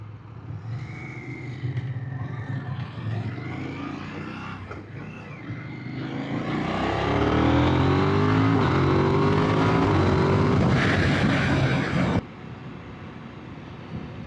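An Audi car drives past a rider on a motorcycle, its engine rising to a loud, close roar over steady riding noise before dropping away abruptly.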